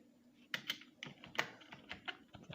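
Someone types a date on a computer keyboard. The keystrokes are quiet, close and uneven, with a few sharper taps in an irregular rhythm and no speech.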